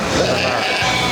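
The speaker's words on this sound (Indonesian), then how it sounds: "Kita lihat domba yang di sini." Sheep bleating in a farm pen, one clear wavering bleat close by with faint background voices.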